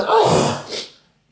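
A single short sneeze bursts out nearby, sharp and breathy, then fades within about a second.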